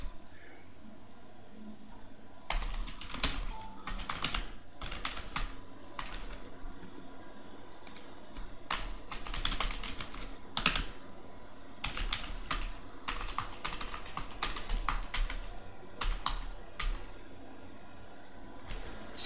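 Rapid bursts of typing on a computer keyboard as networking router commands are entered, clustered clicks in irregular runs over a steady low background hum, close and fairly loud, with no talking.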